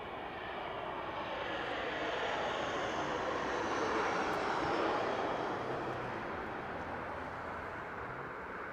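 A Southwest Airlines passenger jet at Las Vegas's Harry Reid International Airport gives a steady, loud broadband engine roar that swells slightly toward the middle and holds throughout, with no talk over it.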